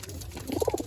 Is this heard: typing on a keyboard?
no